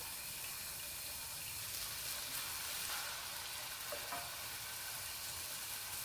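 Minced garlic frying in green onion oil gives a steady, close, even sizzle that crackles without pause from start to end, with no voices.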